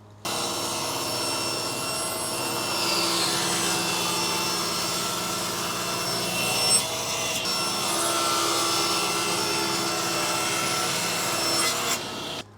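A power saw rips wood boards down to width, with a continuous loud whine and grinding rasp that holds steady for over ten seconds and rises slightly as the blade works through the board.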